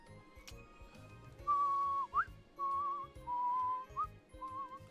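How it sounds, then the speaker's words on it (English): A person whistles a wavering tune in a few drawn-out phrases, fairly clear over a low, steady room hum during a relaxed art-drawing session. "don't do too much whistling here now"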